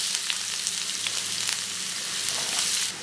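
Chopped onions and fennel seeds fry in hot coconut oil, making a loud, continuous crackling sizzle up close that cuts off abruptly near the end.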